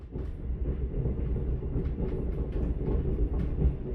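Steady rumbling interior of a Korean express train carriage, seated in the first car's wooden-bench unreserved section, with continuous low rolling noise and faint rhythmic clatter, loud and unbroken without speech.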